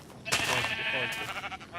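A Minecraft sheep bleats in the blocky game world, a short wavering call sounding once over quiet background, with a voice talking nearby in Polish-speaking gameplay.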